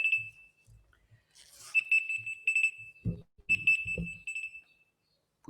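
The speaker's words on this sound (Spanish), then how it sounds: "Puse una alarma." A phone alarm rings in repeated bright electronic beeps, fairly loud, with a low voice and other low sounds breaking in as the tone carries on during a church sermon.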